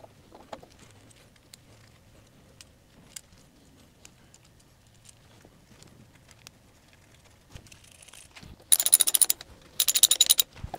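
A ratcheting torque wrench tightens alternator bolts on a Triumph TR4 engine, after quiet faint clicks and knocks, with two loud rapid ratcheting runs near the end.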